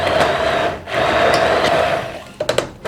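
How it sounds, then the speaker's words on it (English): An immersion blender whirs steadily through shangjuan lemon juice and pulp, loud and close, with a short pause partway through and a few clunks at the end. "I'm going to take an immersion blender"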